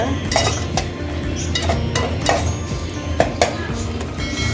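Onions with ginger garlic paste get stirred in a pan, a spatula scraping and clinking against the metal in quick repeated strokes over a low frying hiss, close and fairly loud.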